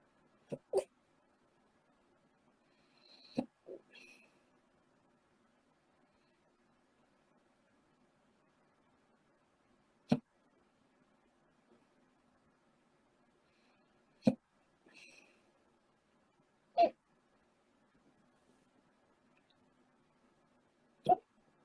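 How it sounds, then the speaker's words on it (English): A woman's hiccups, about seven short sharp jerks spaced irregularly several seconds apart over near silence, close to the microphone. "The hiccups are back."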